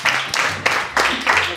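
A crowd applauds a performer at a Romanian album launch, broad clapping that swells in waves over a short stretch while a voice speaks over it.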